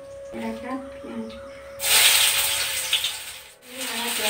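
Sugar dropped into hot oil for a cooking dish bursts into a loud, steady sizzling hiss that starts abruptly and continues, with a brief dip before resuming, following some quieter kitchen sounds beforehand.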